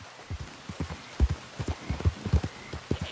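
Horse hooves clip-clop at a steady walking rhythm in the Red Dead Redemption 2 video game, close and distinct, with faint ambient noise underneath.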